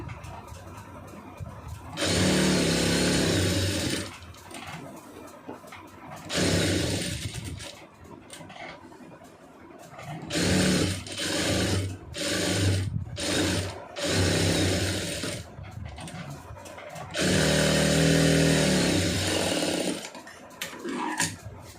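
A sewing machine stitching a cross-cut blouse lining in loud, close bursts of rapid mechanical whirring, several runs of a few seconds each separated by short quiet pauses and handling noises.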